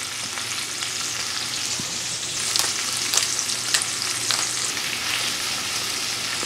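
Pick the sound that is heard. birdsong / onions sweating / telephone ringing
onions sweating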